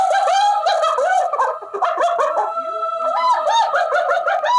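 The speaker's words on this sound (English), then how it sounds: "Here are 3 animal sounds you do not want to hear in the wild." Wild hyenas calling with rising and falling whooping howls, loud and close, several overlapping voices continuing throughout with no talk.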